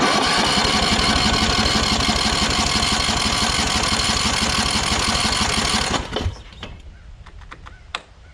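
An old riding mower, left sitting for years, runs at low throttle with a steady, loud, even engine drone that cuts off about six seconds in, leaving a few faint clicks and rattles.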